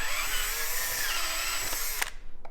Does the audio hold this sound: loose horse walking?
no